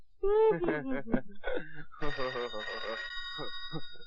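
A telephone rings with a steady electronic trill, overlapping and then continuing beneath several people speaking and exclaiming nearby.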